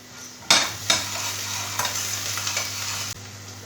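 Food stirred in a frying pan over steady sizzling, with a few sharp scrapes and knocks of a utensil against the pan close by, and no talking.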